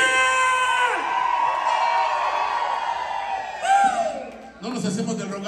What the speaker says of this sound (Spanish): yo quiero escuchar bien fuerte el grito de la gente que quiere audiencia.